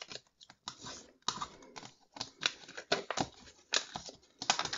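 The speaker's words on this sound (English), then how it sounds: "now I'm going to score on all 3 score lines and use my bone folder" A bone folder scores three lines into designer paper for a gusseted cello bag, giving a series of close, short scraping and crinkling strokes in uneven bursts with brief pauses between them.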